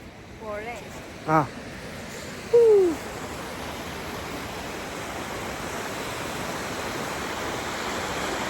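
A river near Manali in snowy surroundings rushes steadily with broad, continuous noise; a voice briefly speaks over it early on before the flowing water carries on alone.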